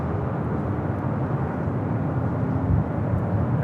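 A passenger jet takes off from runway 24 Left at Los Angeles International Airport, bound for JFK, giving a steady broad engine roar heard from a distance with no voices over it.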